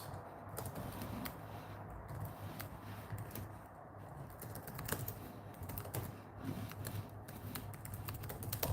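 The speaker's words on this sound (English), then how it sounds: "I'm now typing with two hands" Two hands type steadily on a computer keyboard, a quick, continuous patter of close key clicks with brief pauses, over a low background hum.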